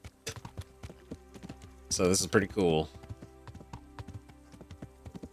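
Horse hooves clip-clopping in Kingdom Come: Deliverance, a steady run of sharp close strikes on hard ground, with someone talking briefly over them midway.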